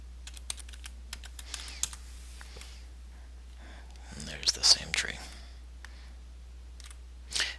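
Light keystrokes on a computer keyboard tap at an uneven pace, faint and close, with a soft voice murmuring in the middle of the clip.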